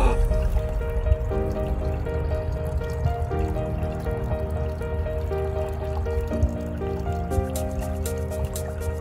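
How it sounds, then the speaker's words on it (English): Water pumped through the coil of a homemade superheated steam boiler, a steady trickling, gurgling flow over a constant mechanical pump hum, even and continuous throughout with no voices. "Okay, water's currently pumping."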